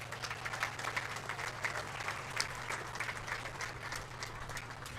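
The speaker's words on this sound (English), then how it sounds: "Let's start by giving them a big round of applause." An audience at a county fair sheep and goat show applauds, steady dense clapping from a crowd for a few seconds, moderately distant and even.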